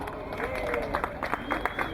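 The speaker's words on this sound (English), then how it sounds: "Let's give the committee a nice round of applause." Crowd applause at an outdoor Puerto Rican flag raising ceremony in Paterson, steady soft clapping from a gathered audience with scattered sharper claps, somewhat distant under light murmuring.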